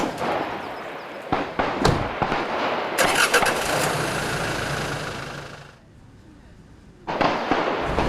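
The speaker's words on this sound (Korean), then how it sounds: "이쪽에 사격장이 있습니다. 그래서 늘 사격 훈련을 많이 해요." Gunfire from a nearby military shooting range in a frontline area: several sharp, distant bangs rise over a steady rumbling background, then a brief lull before the noise returns.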